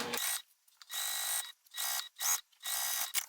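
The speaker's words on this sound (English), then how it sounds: "I'm just going to sew down the bottom of the exterior" A sewing machine stitches the bottom seam of a bag's exterior in four distinct bursts, with short pauses between runs, close and clear with no talking.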